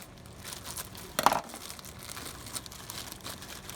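Food crushed and broken up inside a crinkly plastic bag for a no-bake enchilada casserole, one sharp close crinkling burst amid faint rustling.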